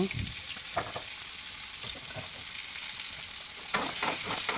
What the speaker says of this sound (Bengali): এখন আলুগুলোকে অল্প হলুদ লবণ দিয়ে ফ্রাই করে নেব